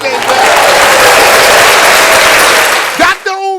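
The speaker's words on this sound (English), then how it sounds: "Let's give him an applause today" Applause and cheering from a crowd honoring a guest speaker, a dense, loud wash of clapping that holds steady for about three seconds before tapering off as a voice begins to speak.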